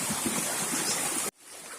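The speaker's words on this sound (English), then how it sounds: "That's how the beautiful stream look like" Spring water stream in the hills of St Thomas flowing steadily, a dense close rushing wash that cuts off sharply and gives way to a quieter, softer flow.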